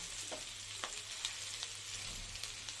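New potatoes and grated coconut frying in oil in a pan, a quiet continuous sizzle with faint stirring ticks and clicks scattered through, no voices.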